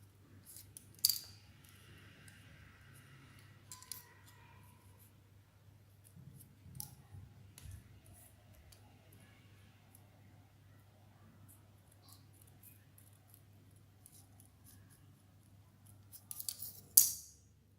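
Paper cut with scissors in a few short snipping bursts, the first near the start and a sharper cluster at the end, with quiet pauses and faint handling noise between.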